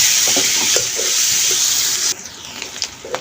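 Green chilies, chopped garlic and onion fry in oil on a village wood-fired stove, giving a steady close sizzle with small stirring clicks. The sizzle drops sharply partway through.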